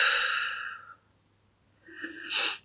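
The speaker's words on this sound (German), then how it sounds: "Dann halten Sie den Atmen, durch den Mund alles raus" A slow breath blown out through the mouth during a box breathing relaxation exercise, soft airy exhale fading to silence, then a quieter breathy sound returning near the end, close and alone.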